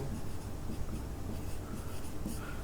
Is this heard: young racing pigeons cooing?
no